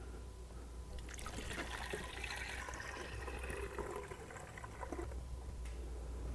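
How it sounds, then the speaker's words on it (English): Old coolant trickles and gurgles steadily from a tank into a new expansion tank on a Porsche Cayenne S, a soft, continuous pouring heard up close. "I should be able to pull this stopper and just refill my new tank with the old coolant"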